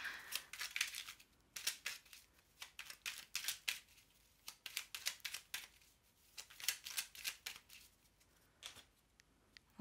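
A deck of tarot cards being cut and handled up close makes quick, crisp flicking and riffling bursts in an uneven rhythm, fairly quiet, with no talking.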